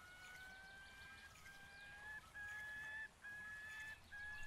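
A bird in the Fishing Planet fishing game calls over and over, a thin, high, repeated whistling cry, faint and steady with no talk.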